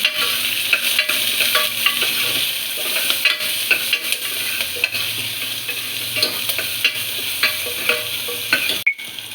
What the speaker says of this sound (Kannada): ಇವಾಗ ಒಗ್ಗರಣೆಗೆ ಈರುಳ್ಳಿ ಹಾಕೋತೀನಿ